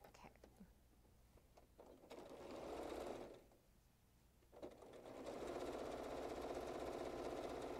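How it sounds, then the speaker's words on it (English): A sewing machine stitches a reversible placemat, quiet and fairly close, in two runs of steady whirring separated by a short pause, with faint low talk in the background. "And we're sewing."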